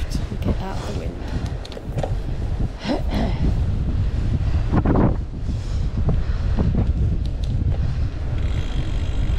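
Strong wind buffeting a microphone while riding, loud rumbling gusts rising and falling continuously, with a voice faintly in the mix.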